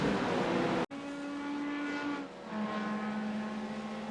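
Race cars in a sim racing game at the Nurburgring GP-Strecke, engines whining steadily at high revs with a sharp cut and gear change as cars pass close, then droning on alone.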